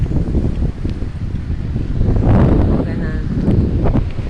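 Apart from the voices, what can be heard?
wind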